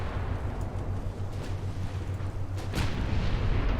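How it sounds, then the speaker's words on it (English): Heavy naval gunfire from battleships shelling cruisers in the Ultimate Admiral: Dreadnoughts naval game, set in a 1900 German campaign: a dense, continuous rumble of distant booms with a sharper, louder blast near the end. "we're just kind of watching my battleships beat up on cruisers at the moment"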